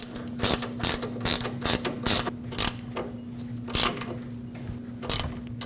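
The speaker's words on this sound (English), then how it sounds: "I'll put the mounting nut back on and we'll snug it up." A hand ratchet snugs the sway bar link mounting nut on a 2005-2021 Nissan Frontier 2WD suspension, giving crisp close clicking bursts in an irregular rhythm of short strokes over a steady low hum, with no talking.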